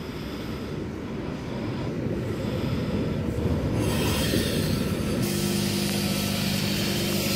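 A passenger train pulls away from a station platform on a Mount Victoria service, a loud, close, continuous rumble of wheels and engine that builds, then brightens with a steady high whine partway through.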